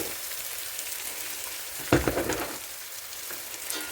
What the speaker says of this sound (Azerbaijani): İndi mən kök qarışıq kələmi tökürəm qazana.